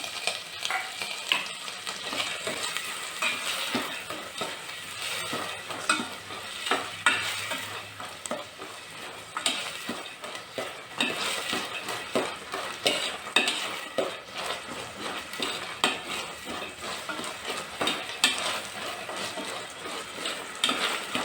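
Lentils and onion roast in a pan for an egg and hyacinth-bean curry, with a steady sizzle and continuous scraping, stirring strokes close by and no talking.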